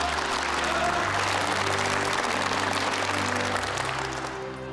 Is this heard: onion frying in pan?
no